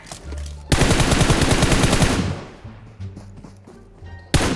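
Automatic gunfire in the mobile game PUBG Mobile, a loud rapid burst of shots lasting over a second, followed by quieter game sounds and another sharp shot at the end.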